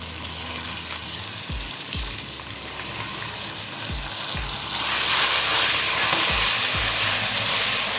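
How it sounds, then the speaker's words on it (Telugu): Grated raw mango and green chillies frying in a hot pan, a loud, continuous close sizzle that swells louder halfway through, with a few soft stirring knocks. "పచ్చిమిర్చి కొద్దిగా వేగాక మనము తురిమి పెట్టుకున్న మామిడికాయ తురుమును వేసుకుందాం"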